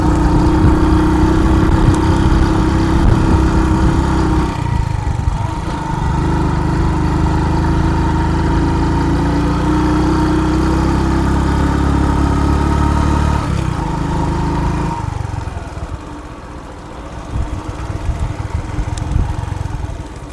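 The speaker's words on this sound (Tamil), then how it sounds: "நம்ம வண்டியே ஏறுறதுக்கு திணறுது மக்களே, திணறுகிறது" Vehicle engine labouring loud and steady up a hairpin bend on a rural village road, a continuous strained drone that dips briefly mid-way and eases toward the end, no talking over it.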